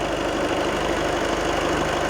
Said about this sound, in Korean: 엔진 소리 잠시 들려드리도록 하겠습니다.